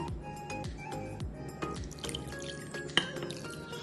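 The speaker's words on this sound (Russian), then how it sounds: "Добавляем воду." Water pours and drips into a bowl holding a dough mixture of eggs and salt for pizza, a quiet close trickle with small splashes and a brief clink near the end.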